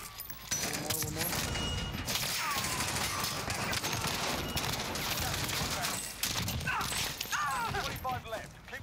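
Gunfire crackles in a multiplayer shooter game, sustained bursts and rapid volleys over busy battle effects, with players talking excitedly over the shots.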